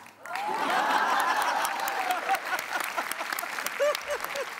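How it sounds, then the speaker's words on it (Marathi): A studio audience at a Marathi TV comedy show bursts into loud, sustained applause that swells quickly and then continues steadily, with a few scattered chuckles mixed into the clapping. "तरीच जोरदार टाळ्या"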